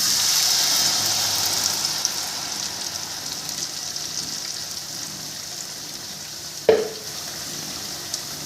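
Garlic frying in a pan for an Egyptian moussaka, a steady soft sizzle running throughout with one sharp utensil clack near the end.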